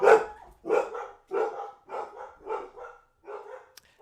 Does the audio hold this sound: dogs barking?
yes